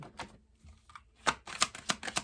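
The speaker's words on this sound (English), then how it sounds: "The cards shuffle so smooth, too." Quick bursts of papery flicking and snapping as a deck of tarot cards is shuffled up close, several rapid riffles in a row with no talking.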